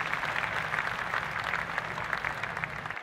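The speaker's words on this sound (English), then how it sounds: "I'd like to everyone give a round of applause for Billy Fantabulous and Happy Wonder Jets." Sustained audience applause for a stage act on a comedy variety show, a dense steady wash of clapping that fills the whole stretch at an even level.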